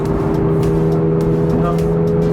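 A Toyota GR86 sports car engine drones loudly and steadily up close, with a throaty low rumble, augmented-sounding tone and faint voices underneath.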